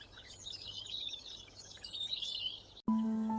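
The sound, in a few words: small bird chirping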